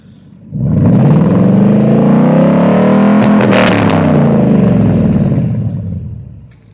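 A 2000 Ford F150 with a 5.4 V8 and true dual exhaust on Smithy mufflers, no cross pipes, revs up loudly and close, holds a deep throaty roar for several seconds, then falls away.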